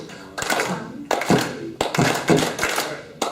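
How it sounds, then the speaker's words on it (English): Luncheon audience clapping hands together in a steady rhythm, a series of sharp, fairly loud bursts spaced about half a second apart, with short quiet gaps between groups. "Really clapping those hands, moving them around."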